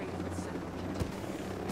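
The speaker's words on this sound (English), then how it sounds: "we've been detected by these helicopters" Helicopters in the video game Ghost Recon Breakpoint thrum with a steady low rotor drone, fairly close and constant, with a faint voice murmuring underneath.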